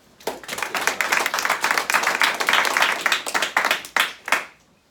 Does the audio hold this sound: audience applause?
yes